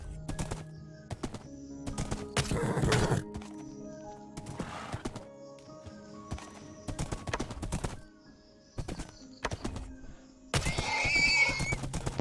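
Horse neighing and hooves clip-clopping in the video game Minecraft, Bedrock edition hardcore world: several loud whinnies in separate bursts with rapid hoof clops between them, close and clear, with no talk.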